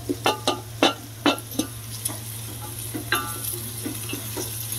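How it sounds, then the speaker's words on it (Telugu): Soya chunks sizzle steadily in a hot pan for a biryani, with a close, continuous frying hiss broken by several sharp scrapes and taps of a spoon stirring them. "ఇవైతే చక్కగా వేగిపోతున్నాయి"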